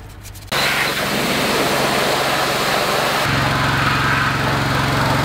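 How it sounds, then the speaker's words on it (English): A pressure washer rinses the exposed engine bay of an E36 drift car, a loud steady spray hiss and machine drone that kicks in abruptly after a short pause and runs continuously, shifting tone partway through. "figure this is a good time to give it a rinse"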